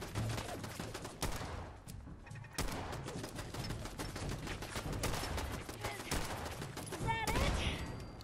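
Rapid bursts of turret and weapon gunfire crackle through a Fallout 4 firefight, dense overlapping shots with brief lulls, loud and close, ending in a sharp burst near the end.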